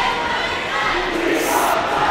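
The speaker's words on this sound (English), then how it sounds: "The crowd looks to be cheering for their girls." A crowd roars and cheers at a girls' varsity high school volleyball game during a timeout, a dense, loud, continuous wash of shouting voices filling the gym.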